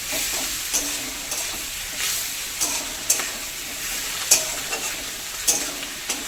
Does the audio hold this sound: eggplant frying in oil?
yes